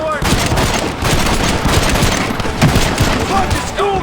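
Dense, continuous gunfire from rifles and machine guns in a Red Dead Redemption shootout at a gate, loud and rapid throughout, with scattered shouting voices mixed in.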